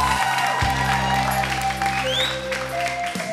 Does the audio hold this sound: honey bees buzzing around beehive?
no